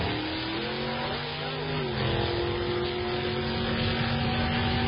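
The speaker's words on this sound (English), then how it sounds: "So Charlie Wagner going to have to avoid parts flying off this thing as he runs down the left lane." Nitrous- and moonshine-fed hot rod drag racing down the left lane at Heartland Park during Hot Rod Drag Week, a loud continuous engine roar with rising pitch as it accelerates, heard alone without talk.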